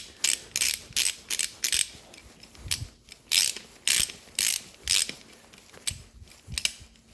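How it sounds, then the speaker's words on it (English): Repeated ratchet wrench clicking while tightening bolts on an Austin Healey, in short bursts of rapid close clicks separated by brief pauses, with no talking. "before we start torquing them, we're just going to tighten them down."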